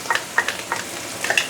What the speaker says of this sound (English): I'm going to add in the chili paste right now.